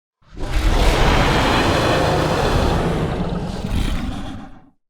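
A huge, deep dragon roar, slightly pitched down, surges in and holds for several seconds, rumbling and distorted, with a second swell near the end before fading out.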